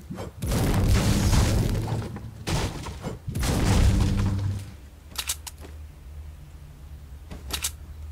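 Rapid gunfire and heavy explosions in a Fortnite match, loud bursts of shots and booms in quick succession that thin out to sparse, sharp single shots, with no talking.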